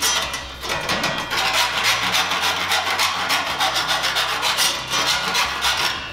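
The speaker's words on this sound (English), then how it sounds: "And then run our file" A metal file rasps along the edge of a 4 mm cable tray to take off burrs, making a steady run of close, scratchy back-and-forth strokes with no talking.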